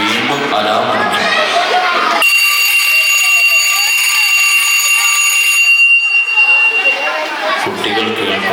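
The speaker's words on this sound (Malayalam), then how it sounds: "വീണ്ടും അലാം അടിക്കും." An alarm in a madrasa classroom skit about sleeping children rings with a loud, sustained electronic tone for about three seconds, with talking before and after.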